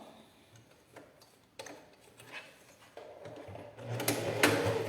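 A sewing machine stitching a fabric toiletry bag: quiet intermittent ticking and short mechanical clicks, building into a louder, continuous rapid whirr of stitching toward the end.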